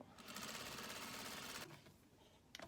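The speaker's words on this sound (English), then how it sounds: "this stitch goes along the top and bottom of our mask, which are our longest ends" A sewing machine stitches the long top and bottom seams of a fabric face mask, whirring steadily and close for about a second and a half before stopping, followed by a brief click.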